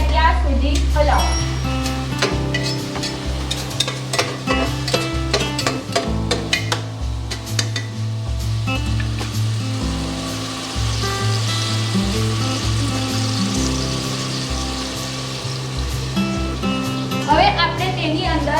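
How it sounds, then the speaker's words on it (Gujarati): Onions and tomatoes stirred and frying in a pan for a soya chunk curry, with a steady sizzle and scraping, clinking spoon strokes against the pan, while music or voices run underneath throughout. "કાંદા અને ટામેટા એક રસ થઈ જાય ત્યાં સુધી હલાવો."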